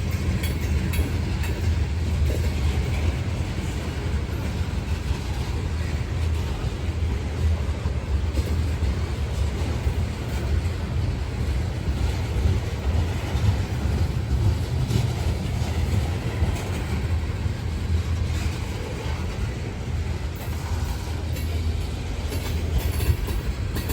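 A freight train of loaded ethanol tank cars rolls past close by on Kentucky's Old Rat Hole Line, a steady heavy rumble with faint clickety-clack of wheels running unbroken throughout.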